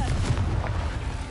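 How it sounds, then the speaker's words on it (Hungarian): An explosion spell goes off in the Hogwarts Legacy video game, a dense low rumbling blast filling the whole moment. "a robbantásos módszer a tuti"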